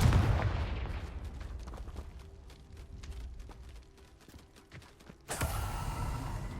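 Confringo fire spell cast in Hogwarts Legacy, a burst of magical explosion with crackling, popping debris that fades, then a second loud blast swells near the end, no speech.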